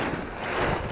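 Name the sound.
wind blowing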